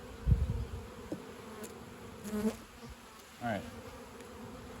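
Bees buzz steadily around an open beehive full of brood, a close, continuous hum with a few individual bees whining past and a brief voice at one point.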